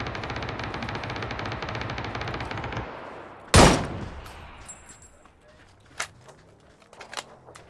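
Rapid automatic gunfire in a video game rattles steadily for about three seconds, then one sharp loud blast, followed by a few scattered distant shots and echoes as the noise fades.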